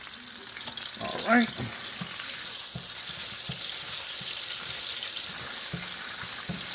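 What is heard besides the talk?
minced garlic frying in a pan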